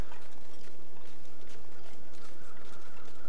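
Hare footsteps in The Long Dark video game, a soft irregular patter of light steps over a steady windy ambient backdrop, faint and spread through the whole stretch.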